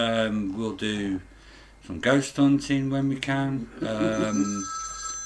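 A phone rings under a person talking nearby, its electronic tone entering partway through and continuing beneath the speech toward the end.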